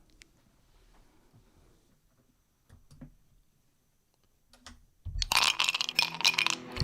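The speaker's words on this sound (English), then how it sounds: "I also got clinks of glasses in the background" Glasses clink lightly in the background, a few sparse ticks at first, then a dense burst of clinking and clattering erupts loud near the end, at a live recording of a DU football show.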